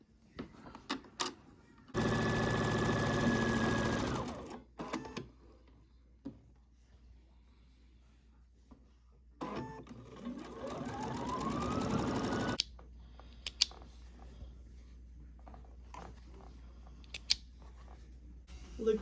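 Home sewing machine running in bursts while quilting a rag quilt: two sustained loud stitching runs, the first about two and a half seconds, the second rising and steadying over three seconds, separated by quiet handling noises.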